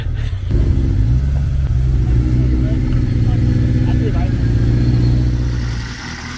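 An Austin 7 car engine rumbles loud and steady, held close throughout with a low mid-pitched drone that eases off near the end.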